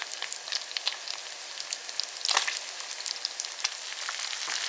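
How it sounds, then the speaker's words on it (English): Breaded plaice fillets sizzle steadily in a hot frying pan, a dense crackling hiss broken by sharp pops and spits, close and continuous with no talk. "sizzling, which indicates that it's starting to cook"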